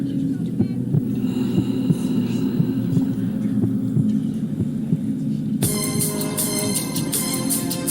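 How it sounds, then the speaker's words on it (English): AI-generated music carries a low, throbbing heartbeat-like pulse under a steady hum, with brighter synthesizer tones joining near the end. "we got a kind of a heartbeat going sound here"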